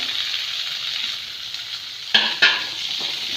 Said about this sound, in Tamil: இதெல்லாம் போட்டு நல்லா செவக்க வறுத்துக்கலாம்